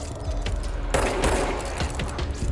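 Rapid bursts of gunfire in the video game Control, a dense crackling volley that sharpens midway, heard close amid steady background game noise.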